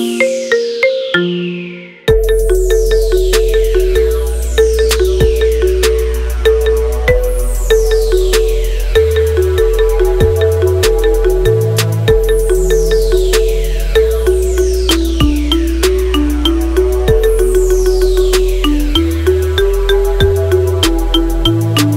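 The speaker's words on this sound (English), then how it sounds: "Make your phone ring with the best ringtone of the year." Marimba remix ringtone of a song, a bright mallet melody over a steady bass beat with no vocals, playing loud and continuous after a short intro.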